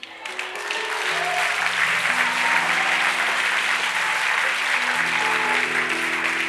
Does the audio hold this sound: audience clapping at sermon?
yes